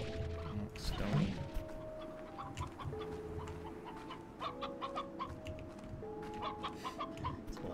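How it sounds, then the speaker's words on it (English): Stony hens in the video game Slime Rancher cluck repeatedly in the Glass Desert, soft scattered clucks over an ambient game music bed, moderately quiet throughout. "That's a lot of stony hens."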